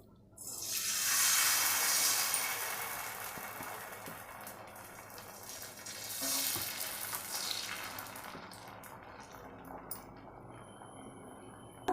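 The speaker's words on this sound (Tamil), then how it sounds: "இப்போ வந்து நம்ம தோசை ஊற்றிக்கலாம்." Tomato dosa batter poured onto a hot tawa bursts into a loud hissing sizzle that fades gradually, then swells again briefly before settling into a softer crackle, no voices.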